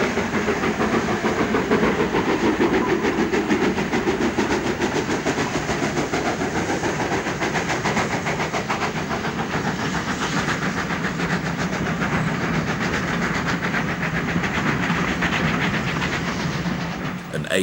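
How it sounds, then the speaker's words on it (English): A King's Cross to Grantham mainline passenger stopping train runs past close by on a Sunday morning, a loud, continuous rumble with rapid clickety-clack of wheels over rail joints that holds steady throughout. "the 8:15 King's Cross Grantham stopper is the first down mainline train of the day."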